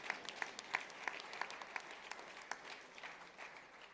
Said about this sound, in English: we clap for that too